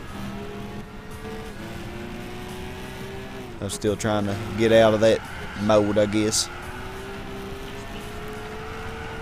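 A racing car's engine in Gran Turismo 6 revs and shifts through several rising, stepped gear pulls mid-clip, loud over a steady engine drone, while someone talks throughout.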